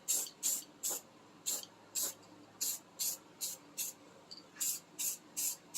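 An aerosol can sprays anti-seize onto Triumph Spitfire 1500 trunnion parts in about a dozen short, evenly spaced hissing bursts, close by and clear.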